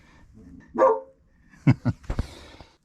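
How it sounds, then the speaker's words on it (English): A dog barks indoors, one muffled woof followed by a quick cluster of three or four sharper barks, moderately close with a quiet room behind. "And my dog Finn is barking."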